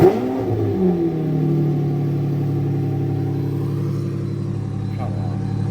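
Supercar engine on a cold start, a loud rev at the very beginning that settles into a steady, deep, rumbling idle.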